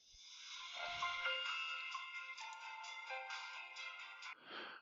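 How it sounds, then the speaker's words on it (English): An incoming phone call's ringtone plays a bright, tonal melodic jingle that repeats for several seconds, clear and fairly close, ending abruptly, with no talk over it. "oh, I hate that. I got a phone call."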